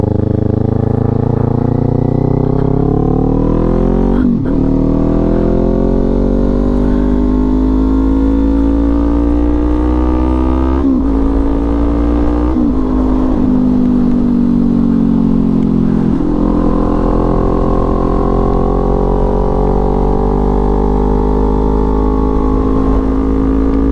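A Kawasaki Z400 sport bike engine pulls hard through its revs, a loud, steady buzzing drone that rises and falls in pitch as it accelerates and shifts, heard up close without any talking.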